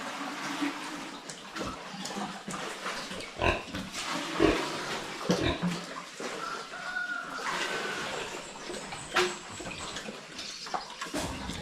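Pigs grunt and squeal close by, a steady chorus of snorts and oinks with scattered louder squeals over a noisy pen.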